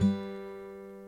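A guitar plucks the opening of a picking pattern, a single bright note ringing close and clear before fading over about a second.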